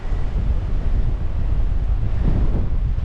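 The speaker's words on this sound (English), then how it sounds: "Windy." Strong wind roars steadily into the microphone in Morocco's Atlas Mountains, a continuous heavy low buffeting with gusts, and no voices.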